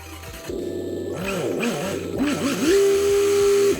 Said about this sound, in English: It's pretty cool, like a V8 sound.